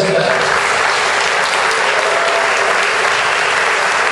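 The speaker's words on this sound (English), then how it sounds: "let's give a big round of applause to Phil Russo." Steady, loud applause from a crowd at a public political event welcoming a host, a dense continuous clatter of clapping that fills the whole stretch without letting up.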